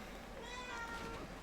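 A pet cat gives a soft, drawn-out meow indoors, faint against steady background sound from game audio.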